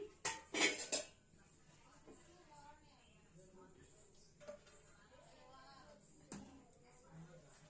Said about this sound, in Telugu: ఇంకా అన్నం అయితే పెట్టేస్తున్నా